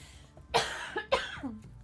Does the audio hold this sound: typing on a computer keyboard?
no